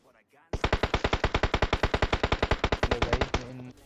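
Rapid automatic gunfire from an M4 rifle in PUBG Mobile, a loud burst of about thirty evenly spaced shots lasting roughly three seconds, trailing off into shell clinks.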